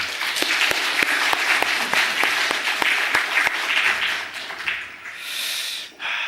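Church congregation applauding during a Sunday worship service, a steady wash of dense clapping with a few sharper individual claps standing out, fading toward the end.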